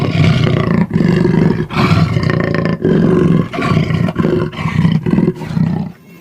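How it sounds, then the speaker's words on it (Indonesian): A leopard roars loudly and close by in a series of about five long, rasping bursts separated by short pauses, with no other sound. "seekor macan tutul"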